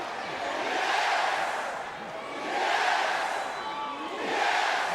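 A huge wrestling arena crowd chants for Daniel Bryan in loud rhythmic waves that swell and ease, the whole room roaring in unison with no gaps of quiet.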